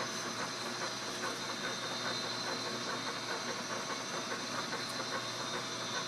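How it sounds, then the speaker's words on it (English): A sped-up log splitter runs steadily with a loud, continuous hissing mechanical drone and faint rhythmic clatter, with no talk over it. "Some of you might be wondering about this splitter. Did I speed it up? Yes, it's running about 3 times as fast as it used to."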